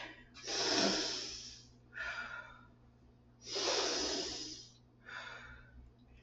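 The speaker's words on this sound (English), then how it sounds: "Let's take a breath." Deep breaths taken during a seated chair workout: two long, airy inhales each answered by a shorter exhale, close and soft against a quiet background hum.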